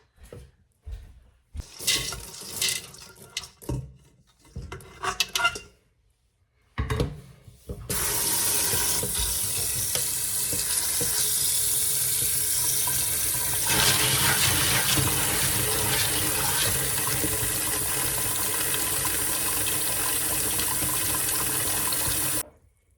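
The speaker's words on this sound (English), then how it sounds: "You want to make sure you put enough water that they're well covered and have extra water" Tap water runs into a pot of dried peas set to soak, first in short stop-start bursts, then as a strong continuous pour filling the pot.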